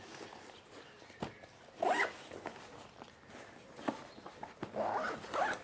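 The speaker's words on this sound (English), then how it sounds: "The zips feel quite nice." Zipper on a Lowepro DroneGuard BP 250 drone backpack for a DJI Mavic, pulled in several close, raspy strokes of varying length with brief gaps between them.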